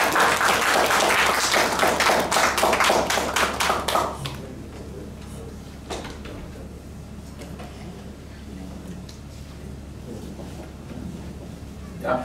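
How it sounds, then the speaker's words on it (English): Audience applause at an investment promotion conference in Ghana: a few seconds of loud, dense clapping that breaks off abruptly, followed by quieter room noise with scattered claps and movement. "Let's give him a round of applause."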